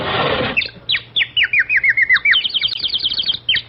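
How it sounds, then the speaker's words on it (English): A canary sings a quick, bright series of rising and falling chirps and trills, close and clear, on an old radio quiz show recording. "Well, that's a canary bird and a mighty pretty one, too."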